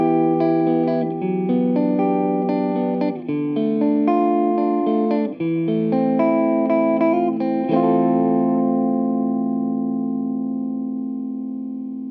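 An electric guitar with all pickups active on the seventh switch position plays a short sequence of distorted chords, each struck cleanly, before the last chord rings out and slowly fades, with no voices.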